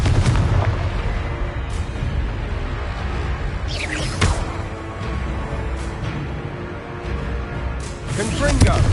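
Repeated Confringo spell blasts in Hogwarts Legacy on PS5, dense booming bursts and crackling impacts running continuously through a busy combat mix, with a voice shouting spell names over the action.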